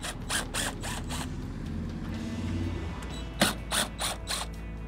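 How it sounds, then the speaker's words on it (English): An impact driver backs screws out of the hopper of a Masterbuilt Gravity 560 grill, with close rapid ratcheting hammer bursts in several short runs, separated by quieter gaps with faint mechanical clicks. "So I've got my impact here and we're just going to"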